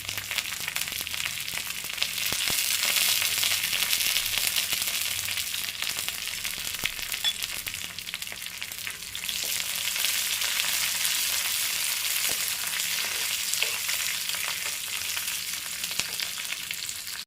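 Dried red chillies and curry leaves fry in hot oil for a salted-mango curry, giving a dense, steady crackling sizzle that holds at an even, fairly loud level throughout, with occasional faint stirring and no speech.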